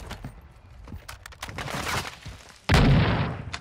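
A Lockwood 300 shotgun fires in Warzone 2, a loud close blast that cuts in near the end after a stretch of rumbling game noise and scattered clicks.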